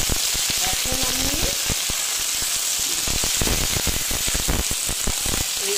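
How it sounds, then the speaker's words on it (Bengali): Sliced ridge gourd frying in hot oil in a pan, a steady loud sizzle with crackling pops and some spatula scraping throughout, close by, no talking. "এইগুলো ভেজে নিচ্ছি"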